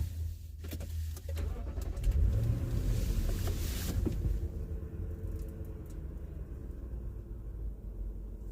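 A car engine idles steadily in a low, continuous rumble, with a brief louder surge near the middle and faint clicks early on.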